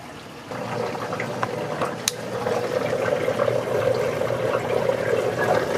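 Water splashes and churns steadily in an aquarium sump fitted with an air vent and a T fitting, a continuous gurgling rush that swells slightly after a soft start, with one sharp click partway through.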